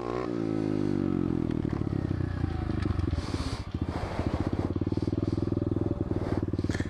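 A motorcycle engine idles loud and close with a steady, throbbing low rumble, rising slightly in intensity partway through as a few small clatters and scrapes sound over it.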